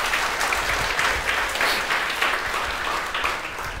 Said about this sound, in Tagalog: pumalakpak ng the best kay Jesus.